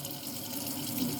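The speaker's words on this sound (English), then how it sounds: "So what I do is then I would add water to it." Water pours steadily into a vessel for brewing tea, filling toward 32 ounces with a continuous, even rushing splash, close and fairly loud throughout.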